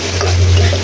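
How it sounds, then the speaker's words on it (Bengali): Fish frying with chili powder in a pan is stirred, giving a loud, continuous sizzle close up with a low steady hum underneath and no talking. "আবার নেড়ে চেড়ে দিচ্ছি।"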